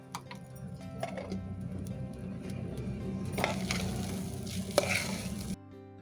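Ginger paste sizzles steadily in a pan while a utensil stirs and scrapes through it, with a few sharper clicks near the end of a continuous frying hiss during vegetarian matar pulao preparation.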